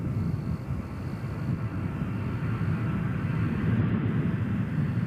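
A Southwest airliner arriving at Nashville International Airport, heard as a steady low jet rumble, moderately loud and continuous at a distance, with no speech over it.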